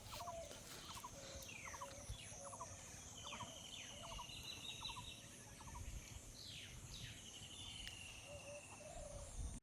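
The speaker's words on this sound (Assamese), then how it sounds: "এইয়া ফালে আমাৰ হাঁহ চৰি আছে" Domestic ducks foraging in a rural field in the morning give bursts of quick, repeated nasal quacks at a moderate distance, with thin bird chirps and a soft outdoor hum around them.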